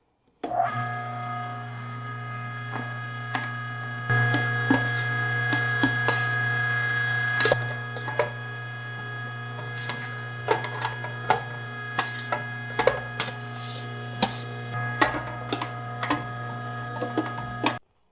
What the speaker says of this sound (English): We're gonna take all of this, put it back in, get a second grind on it